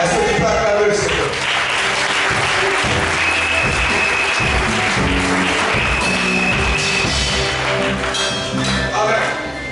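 A church congregation at a Sunday service claps and cheers, sustained loud applause filling the room with shouts and voices mixed in throughout.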